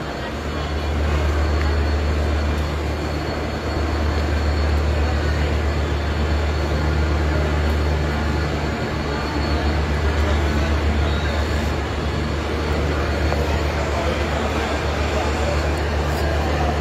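A train at Kamalapur railway station in Dhaka, a loud, steady low engine drone and rolling rumble sustained throughout, with indistinct voices mixed in.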